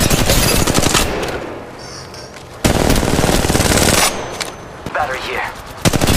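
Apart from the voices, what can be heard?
gunfire in a video game firefight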